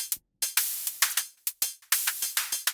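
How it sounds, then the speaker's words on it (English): Neural-net drum synth patch from Axon 3 on an iPad, heard alone as a quick run of sharp, bright, noisy electronic hits in an irregular rhythm with brief gaps. "So it's a neural net drum synth."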